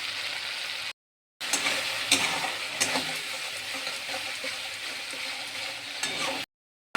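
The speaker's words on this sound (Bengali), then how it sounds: "পোস্ত আর কাঁচা লঙ্কা বাটাটা দিয়ে দেবো। দিয়ে ভালো করে কষিয়ে নেব।" Poppy seed and green chili paste fries in a pan for a rohu fish curry, a soft steady sizzle with occasional stirring scrapes, broken by two brief silent gaps.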